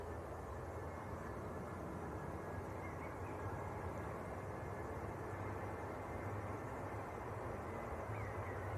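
An EasyJet airliner from Geneva heard at Manchester Airport. It gives a faint, distant, steady jet rumble and roar that holds evenly throughout without rising or fading.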